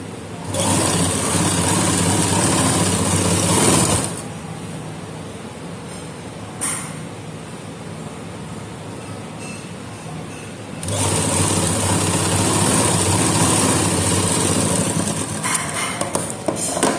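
Sewing machine stitching salwar fabric, running in two long steady bursts of close, loud whirring with a quieter pause between them and no talk.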